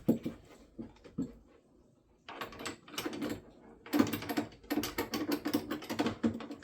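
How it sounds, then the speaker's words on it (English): Backer and torque wrenches work flare fittings loose on a Samsung Windfree 2.0 air conditioner. Quiet clicks come first, then bursts of rapid ratcheting and metallic clatter close up, with no voices. "you're going to use your backer wrench and your torque wrench. And you're going to break these free"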